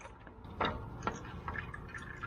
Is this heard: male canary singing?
no